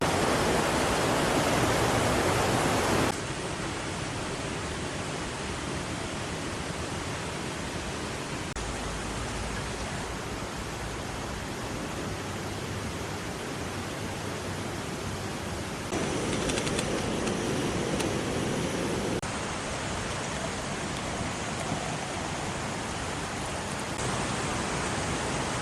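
River water flowing steadily at a riverside campground in Kampar, a continuous broadband rush that stays close and fairly loud throughout with small shifts in intensity and no talk.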